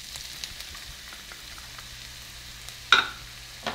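Chopped onion frying in hot oil in a pan for a breakfast burrito, a soft steady sizzle with a sharp louder hiss near the end as more goes in, no talking.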